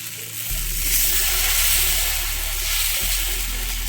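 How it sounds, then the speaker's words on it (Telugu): Dosa batter loaded with carrot, paneer and cheese sizzles on a hot pan, a steady close hiss and crackle that swells as the batter hits the surface and continues evenly. "ఇదిగోండి దోశ వేసుకుందాం."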